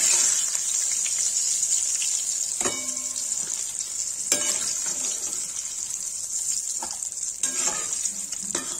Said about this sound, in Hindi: बैगन फ्राई हो जाएगा तो टमाटर मसाले टमाटर फ्राई तो बैगन फ्राई हो गया तो निकाल देंगे